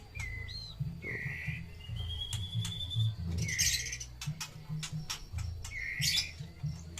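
Captive murai birds sing in clear, varied phrases: bright whistles, rising and falling sweeps and quick chirps repeat at close range over a low background hum, with no talking.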